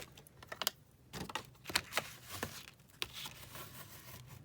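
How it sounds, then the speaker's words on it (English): Paper creased flat with a bone folder at a desk, heard as a quiet series of short, crisp scraping and tapping strokes, some closely grouped, against a faint background. "let me just bone folder that down"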